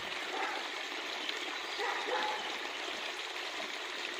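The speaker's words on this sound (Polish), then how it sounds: "i po prostu jest strumień" A forest stream runs swollen after a flood, a steady broad rushing and trickling of water heard from nearby at moderate volume, with no talking.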